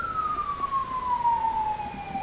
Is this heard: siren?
yes